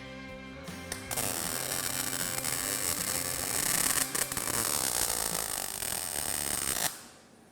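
A cold MIG-style weld being laid on steel in a welding lesson, giving a steady crackling, buzzing hiss that runs continuously for about six seconds before stopping abruptly.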